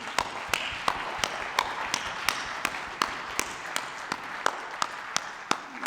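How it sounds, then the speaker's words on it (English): Audience applause for cadets at a maritime industry conference, heard as a steady run of sharp, evenly spaced claps, moderately loud and close, continuing for several seconds with no talk over it. "Can we give all the cadets in this room a big round of applause in addition to everything?"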